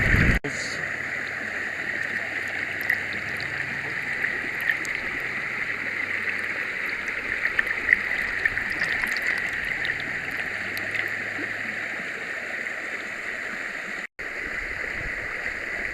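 Water rushes steadily through a 1.5-inch gold hand dredge and spills into a clear 2-inch sluice box, a continuous close-up flowing wash with a gurgling, splashing texture.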